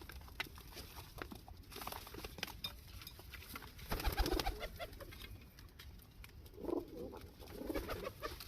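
Soft, low cooing from a tournament racing pigeon nearby, a few gentle throaty phrases rising over faint background rustle and patter, with no talk.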